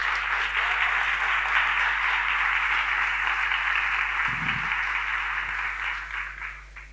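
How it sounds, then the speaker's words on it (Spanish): Sustained audience applause in an auditorium for a teacher, researcher and technologist at a tech education event, a steady dense wash of clapping that holds evenly for several seconds before fading toward the end. "un aplauso para ella"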